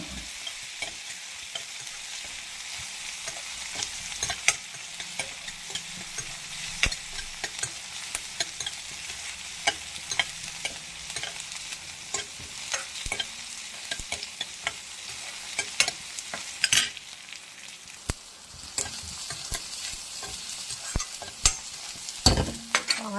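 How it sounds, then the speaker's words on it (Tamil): Onions and tomatoes sautéing in a pan for mango poriyal, a steady close sizzle broken by frequent scraping and clinking stirs throughout. "வெங்காயம் வதங்க தக்காளி சேர்த்துக்கோங்க. தக்காளி நல்லா வதங்கணும்."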